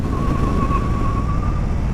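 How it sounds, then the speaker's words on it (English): A thin, sustained high squeal of a Harley-Davidson Street Bob 1600cc motorcycle tire screeching under hard braking, steady for almost two seconds over a loud rumbling engine and road noise. "that is the sound of a tire screeching"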